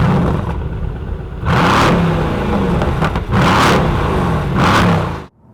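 A 2016 Mercedes-AMG C63 engine revs hard in several loud bursts, each climbing and then falling back to a rumbling idle, before cutting off abruptly.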